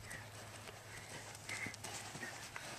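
A ridden horse clip-clops through a jumping round, its hoofbeats fairly faint and steady over a broad outdoor hiss, with a few brief higher accents along the way.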